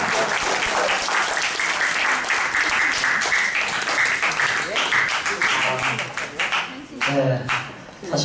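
A crowd at a presentation event applauds loudly and steadily for several seconds, dense clapping that thins slightly toward the end, with a few voices mixed in.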